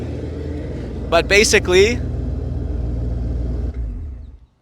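Deep, steady rumble of a simulated engine sound played through JL Audio subwoofers mounted underneath a Tesla, holding low and loud throughout, with someone talking briefly over it before it cuts off near the end.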